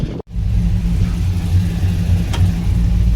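A 5.3 V8 with a choppy cam idles in a K20 square-body Suburban, a loud lumpy low rumble holding steady after a brief cutout at the start.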